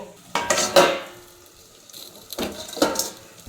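A metal plate set down as a lid over a pan of cooking eggs, giving a couple of sharp clanks amid soft kitchen clatter and faint sizzling, close and fairly quiet.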